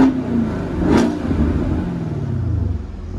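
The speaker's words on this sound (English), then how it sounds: "Let you hear the exhaust real quick." A Chevrolet Camaro SS engine revs up with a sharp blip, then the exhaust settles into a deep, loud rumble that slowly winds down, heard up close.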